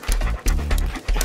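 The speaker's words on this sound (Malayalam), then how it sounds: "അയ്യോ പട്ടി" A dog panting in quick, loud breathy bursts close by, several short rasping breaths with brief pauses between them.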